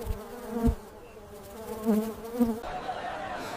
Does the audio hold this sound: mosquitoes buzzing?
yes